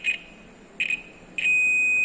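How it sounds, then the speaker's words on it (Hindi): A multimeter gives continuity beeps as its probes are shorted together: two short high tones, then a third tone that stays on steadily. "ये देखिए, बीप का साउंड आया है और रीडिंग भी आई है।"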